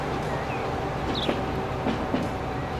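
A train in the Transport Fever video game rumbles steadily as it brakes into a station, with a continuous rolling roar, faint wheel clatter and a few soft squeaks.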